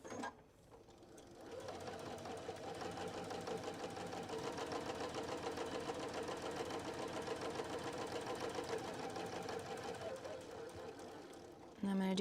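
A sewing machine stitches a seam on a tote bag with French seams, a steady fast mechanical whir running unbroken for about ten seconds, close and loud, starting after a brief pause.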